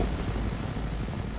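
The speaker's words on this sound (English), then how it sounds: "That fucking helicopter's just focusing me." Helicopter rotor and engine noise from a video game shooter, a steady, fairly loud whirring rumble with no talk over it.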